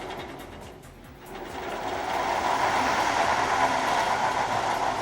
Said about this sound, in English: we're going to go ahead and spool up the motor